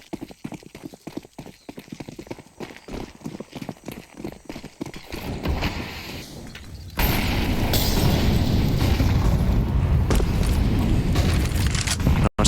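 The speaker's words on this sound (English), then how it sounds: "just grenades of a different variety. Mollies, itchies." Molotov and incendiary grenades burning in Counter-Strike on the Ancient map during an IEM Katowice 2025 MOUZ versus Liquid match, a loud sustained roaring crackle of fire that rises abruptly and stays dense, after quieter footstep-like patter.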